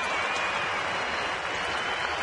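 A sellout baseball stadium crowd cheers in the top of the ninth inning, a broad, steady roar of many voices held at an even level throughout, with no clear talk on top.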